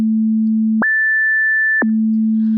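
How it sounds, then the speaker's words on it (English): A square wave LFO modulating a Logic ES2 synth tone. The pitch jumps abruptly from a low steady note to a high one, holds for about a second, then snaps straight back down with no glide, like an alarm. "We then have a square wave,"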